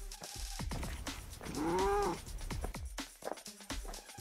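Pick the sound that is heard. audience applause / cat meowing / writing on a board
cat meowing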